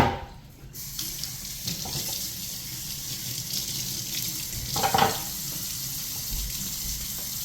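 Kitchen tap runs in a steady, moderate stream while a snapper fish is rinsed, with a brief louder splash partway through as the water strikes the fish.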